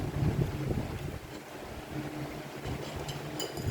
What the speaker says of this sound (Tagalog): May hangin.